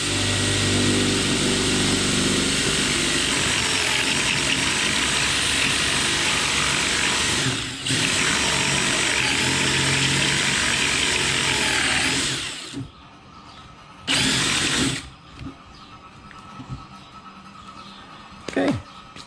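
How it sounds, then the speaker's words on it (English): A power drill bores a 1.5-inch hole in wood for a Ruger Wrangler display stand, whining loudly and steadily for about twelve seconds, then stopping, followed by a short second burst and some handling noise. "We're going to drill our hole."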